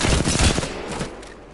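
Rapid gunfire in a shooter video game during aim practice, a dense burst of loud, close shots for about a second that then trails off into quieter game ambience.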